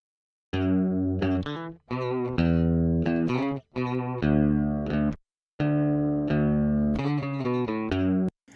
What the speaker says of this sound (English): I tracked it in drop D on a single coil Strat just on the bridge pickup.